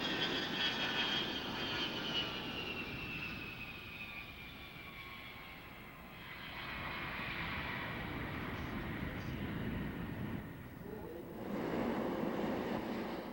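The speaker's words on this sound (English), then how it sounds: "here's our very own KC-135" A KC-135 aircraft passes at an airshow, its jet engines a steady, broad roar that swells and fades slightly at a moderate distance, with no talk over it.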